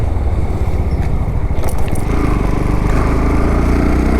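A motorcycle ridden in warm weather, its engine a loud, steady drone close by, holding an even rumble throughout with no talking.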